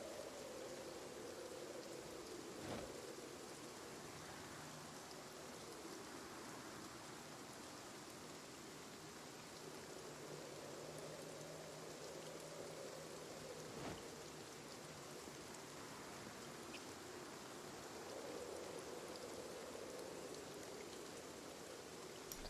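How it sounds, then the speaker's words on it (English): Steady in-game rain falls as a soft, continuous hiss with no voices, faint and even for the whole stretch, with a few brief ticks breaking through. "Yeah, this is just rain."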